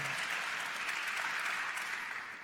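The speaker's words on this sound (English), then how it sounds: "Just a little round of applause if you were at EMP last night." A short round of applause from the audience at a conference session, a steady wash of clapping at moderate distance that fades slightly toward the end.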